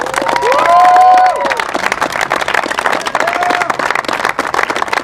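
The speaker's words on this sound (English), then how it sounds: "everybody give them a round of applause" Crowd clapping and cheering for senior tennis players at a team presentation, loud and close, with raised voices and whoops mixed into the applause.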